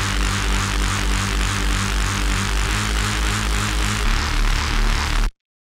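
Thick Reese bass built in the Serum synth, a sustained detuned saw-wave drone with steady rhythmic phasing and a pitch shift near the end, loud and alone until it cuts off abruptly.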